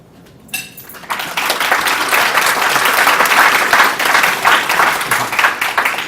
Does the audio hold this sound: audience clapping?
yes